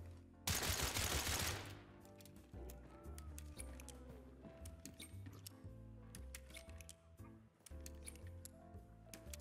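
A dense, loud burst of rapid suppressed pistol shots fires in Hunt: Showdown for about a second, then gives way to quieter scattered clicks and a steady tonal music bed.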